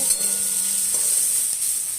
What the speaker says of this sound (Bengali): এবার আমরা একটু নাড়ব।